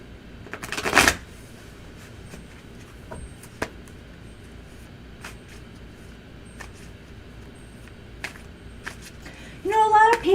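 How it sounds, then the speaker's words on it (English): Tarot cards are shuffled in a quick, riffling burst near the start, followed by soft scattered taps and handling sounds, with a voice briefly at the end. "All right, shuffle Mr. O."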